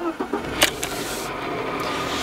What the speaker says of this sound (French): Je vais démarrer la voiture.